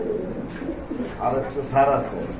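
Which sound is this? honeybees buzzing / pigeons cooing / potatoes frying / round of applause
pigeons cooing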